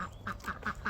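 Skittish farm ducks quack in a quick, steady series of short calls, nearby but fairly quiet.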